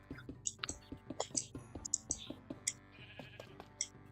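Sheep in a creative-mode block-building game let out a few short bleats over rapid, rhythmic keyboard and mouse clicking, with the bleats fairly faint and spaced apart.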